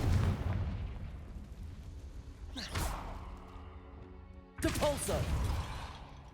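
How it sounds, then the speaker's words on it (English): The Confringo fire spell in Hogwarts Legacy goes off as two whooshing blasts a couple of seconds apart, each a sudden burst of fiery noise that rumbles and fades, with game ambience between. "Confringo."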